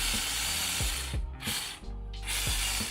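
Metal gears fitted to a WPL D12 RC truck whir steadily with a dense mechanical grind, a brief dip in pitch marking a few rapid ratchet-like clicks as the motor runs close up.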